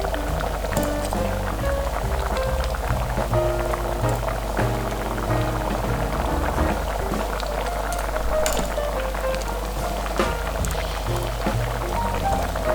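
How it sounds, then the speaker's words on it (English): Leek and potato soup boiling and simmering in a pot, a steady loud bubbling and popping that goes on without a break. "Now when this gets to the boil, we need to simmer for about 20 minutes."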